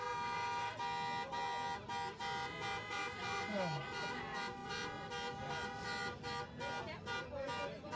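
Repeated short car horn beeps from a graduation car procession sound over a busy, noisy background with voices chattering throughout.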